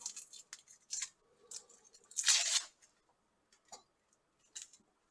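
Onion skin being peeled off by hand, a series of close, dry crackling tears and rustles in irregular short bursts, one longer rip in the middle, with quiet gaps between.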